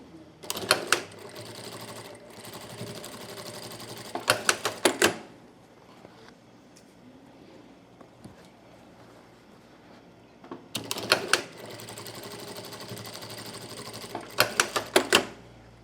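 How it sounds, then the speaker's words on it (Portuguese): A sewing machine stitches a seam on a fabric basket in two bursts of rapid mechanical whirring with clicking starts and stops, separated by a quieter pause of handling sounds. "E agora eu vou passar uma costura também com um pé de máquina."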